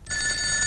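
A telephone bell rings loudly and continuously, with a bright metallic tone that holds steady and close for under a second with no voices.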